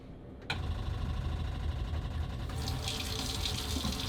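Water gushes from a tap after a pump is switched on to feed a diesel hot water system, starting abruptly and running as a steady, close rush that brightens in hiss partway through.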